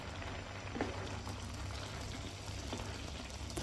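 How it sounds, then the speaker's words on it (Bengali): Moong dal simmers in a pot on a gas stove, a soft, steady bubbling hiss with faint intermittent pops, close and quiet throughout with no voices. "দেখতেই পাচ্ছেন আমাদের ডালগুলো কি সুন্দর সেদ্ধ হয়ে আসছে"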